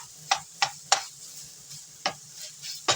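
Leftovers stirred in a stir fry pan, with half a dozen sharp scraping strokes at an uneven pace, close and fairly quiet over a low hum.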